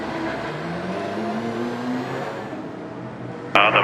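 Race car at a sports car race reversing after rear-end damage, engine revving and whirring with rising pitch, then a sudden louder burst near the end; no talk.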